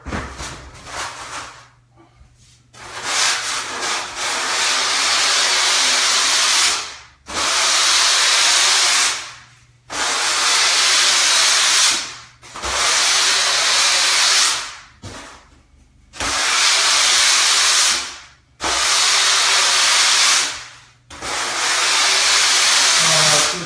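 Hand sanding along the beveled rail of a 5'1 mini Simmons surfboard blank: six long, loud abrasive strokes of steady hiss, each a few seconds, separated by brief pauses, with no talking.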